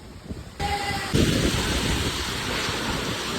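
Loud, rushing wind with rain buffets the microphone in a steady roar, with heavy noise filling the scene and no speech.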